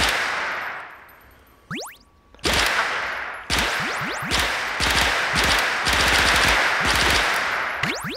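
A gun fires in the VR shooting game Bullets And More in loud bursts and rapid strings of shots, with brief pauses, ringing metallic clangs and falling casings between volleys.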